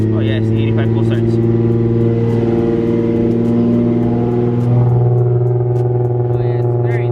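A Nissan 350Z engine idles loud and close after a cold start, giving a deep steady drone with strong low harmonics. The pitch shifts slightly partway through, and faint voices and light clicks sit under the engine noise.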